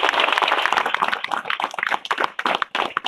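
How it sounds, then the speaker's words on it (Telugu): A crowd of listeners claps loudly together at a public gathering, a dense continuous patter of hand claps close by with no talking over it. "గట్టిగా అందరు చప్పట్లు కొట్టండి"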